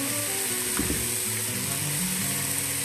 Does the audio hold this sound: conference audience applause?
no